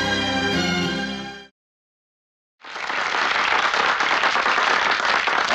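A crowd breaks into loud, dense clapping in a scene from the 1998 Hindi film Salaakhen. The applause rises sharply after a swell of orchestral music and a brief silence, then holds steady to the end.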